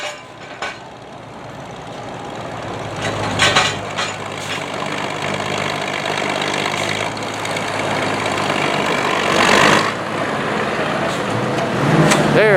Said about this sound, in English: They got the old steam shovel up and running.